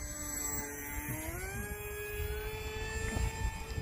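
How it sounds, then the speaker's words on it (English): Hobbyzone Aeroscout S 1.1m RC airplane flying overhead, its electric motor a steady whine that sweeps up and down in pitch as it maneuvers, moderately close, with faint outdoor noise beneath. "this airplane can do quite a bit"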